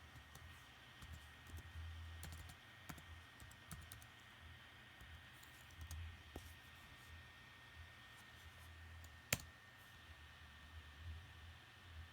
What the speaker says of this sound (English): now I have to probably type in my password